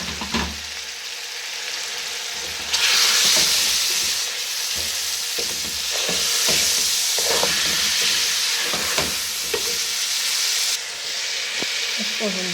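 Onions fry with red chilli powder, salt and boiled paste in a pot for beef yakhni pulao, a steady loud sizzle with stirring clinks and scrapes, briefly louder midway.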